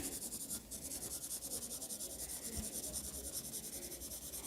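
Felt-tip markers rubbing steadily across wet paper, a continuous dry scratchy stroking with a fast repetitive back-and-forth texture, close and fairly quiet.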